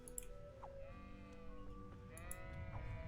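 Sheep in a role-playing video game bleat several times over a low, busy game background, with a few clicks between the calls.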